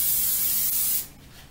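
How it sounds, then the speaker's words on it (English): Oil sprayed lightly onto a cookie sheet in a home kitchen: one steady close hiss lasting about a second before cutting off, with no talk. "Then spray oil"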